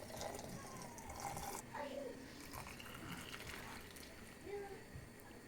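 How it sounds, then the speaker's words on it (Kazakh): Glass jars being topped up with grape and apple compote liquid: a close, steady splashing pour with faint gurgles, continuing without a break. "Енді толтырамыз."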